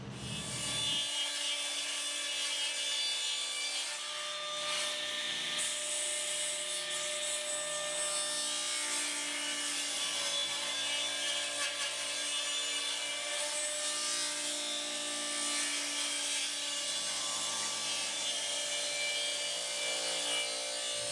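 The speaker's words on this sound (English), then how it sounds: "line up my alignment pin, and make the second cut." A saw cutting a tapered wooden leg on a tapering jig, a continuous loud motor whine with steady cutting noise through the wood, running alone for about twenty seconds.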